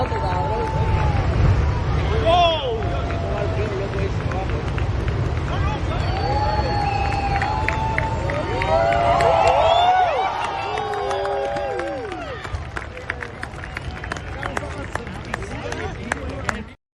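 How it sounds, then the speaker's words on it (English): Loud crowd noise fills the scene: wavering whoops and excited yells rise over dense babble and talk, staying strong most of the way before dropping off at the close. "Somebody coming in and the crowd whooping and a hollering."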